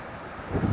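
Steady wind roars and buffets a microphone at a seaside fishing bay on the River Humber. It is a broad, constant rush that swells slightly toward the end, with no voices.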